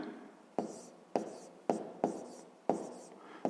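Numbers are written by hand in short bursts of pen or chalk strokes, about six distinct scratchy strokes each starting sharply and fading, close and quiet with no talking.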